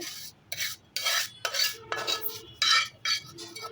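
Kumari potatoes being mashed into a sticky Bangladeshi bharta: a steady run of rough scraping, squishing strokes against a dish, roughly eight in quick rhythmic succession, close and fairly quiet with no talking.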